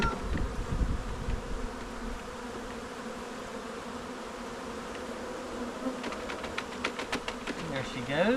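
Honey bees swarm around an open hive during a hive upgrade to an Apimaye box, a dense, steady close-up buzzing that fills the whole stretch with individual bees zipping past the microphone near the end.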